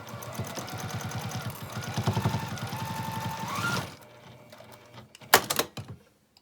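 A sewing machine runs a quarter-inch seam across a pixie basket, a steady rapid chatter of stitching for about four seconds that then stops, followed by a few faint handling clicks.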